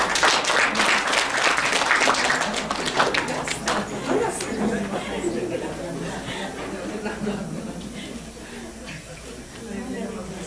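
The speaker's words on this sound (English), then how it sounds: "Let's give them a round of applause." Audience applause for a panel moderator at the close of a conference session, dense clapping loudest at first then thinning and fading over about ten seconds, with scattered chatter underneath.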